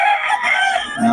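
A young rooster, a stag, crows loudly and close in one sustained, wavering call that fills the whole moment.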